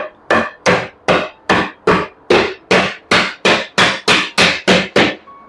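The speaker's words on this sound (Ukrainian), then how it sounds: "Тепер молоточком стук-стук." Fifteen sharp, ringing taps of a small hammer while assembling IKEA furniture, in a steady, even rhythm, close and loud, each strike decaying quickly before the next.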